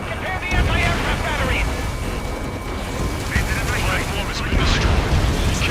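Heavy rumbling explosion and collapse of a destroyed platform in a video game, a continuous roaring, crackling mass of noise with voices talking over it.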